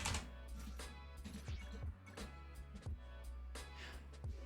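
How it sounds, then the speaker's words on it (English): Computer keyboard with a double-typing fault, heard as a series of light clicks spaced unevenly over a steady game music bed. "this is my keyboard double typing again"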